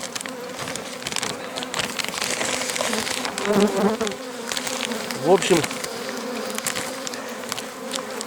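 Dense, steady buzzing of many honey bees swarming at a hive in a forest apiary, with a few louder passes close in and a brief spoken remark.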